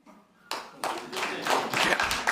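A single man claps his hands, starting after a brief quiet moment, with a run of about eight sharp, fairly close claps in an uneven, quickening rhythm.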